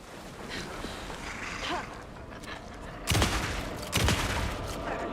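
Rifle gunfire in the video game Alan Wake 2, two sharp loud shots about a second apart near the end, over a steady ambient game background with faint murmuring.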